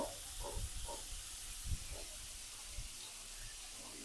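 Hilsa fish head frying in hot oil with cumin, a soft steady hiss and sizzle with a few low bumps, quiet and close, with no voices.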